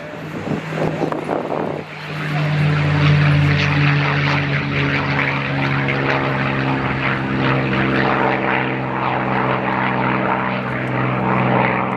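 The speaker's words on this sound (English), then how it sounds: "listen to the sound of a V12 liquid-cooled engine from World War II" A loud World War II P-51 Mustang with a deep, throbbing V12 liquid-cooled piston engine roars steadily nearby at an airshow, building up after a brief dip and holding a rich, sustained drone.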